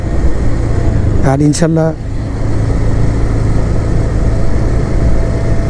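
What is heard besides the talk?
motorcycle engine while riding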